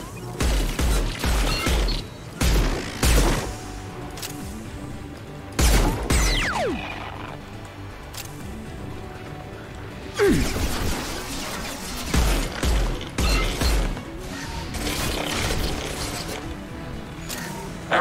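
Bursts of rapid gunfire in Mass Effect 2 come in several loud volleys separated by quieter gaps, with sharp impacts and crashes scattered among them.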